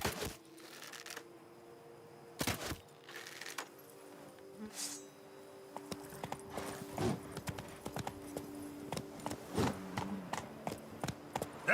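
Hooves of the horse Roach clip-clopping in The Witcher 3, irregular hoof strikes that start sparse and quicken into a steady trot, fairly close and moderately loud.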